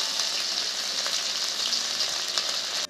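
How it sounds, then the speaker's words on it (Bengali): Green chili paste and ginger paste hit hot oil in a pan for a peas kachori filling, giving a loud, steady, even sizzle with no talking. "তেলটা গরম হয়ে গেছে, দিয়ে দিচ্ছি লঙ্কা বাটা। এবার দিয়ে দিচ্ছি আদা বাটা।"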